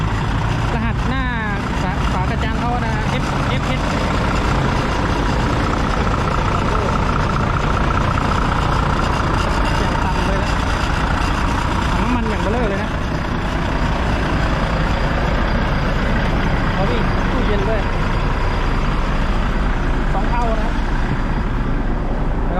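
A Volvo FH 440 tractor truck's diesel engine runs steadily nearby, a loud continuous low rumble throughout, while people talk close to the microphone over it.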